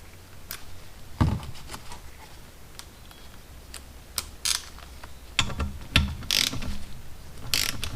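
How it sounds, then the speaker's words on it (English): A ratchet clicks while a 10mm bolt is tightened to 8 foot-pounds during assembly of an 1984 Honda Shadow 500 shifter and oil pump drive. Short bursts of ratcheting clicks and mechanical clatter come in irregular groups, close and fairly quiet. "I'm going to tighten this bolt down here too."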